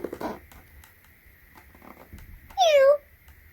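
A LeapFrog talking book plays a single electronic cat meow, short and clear with a falling pitch, after soft tapping and handling noises in a quiet room.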